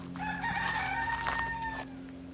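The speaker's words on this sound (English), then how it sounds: "The rooster that's confused." A rooster crows once on a flower farm in the evening, a long rising then sustained call lasting under two seconds, fairly close and clear over quiet background noise.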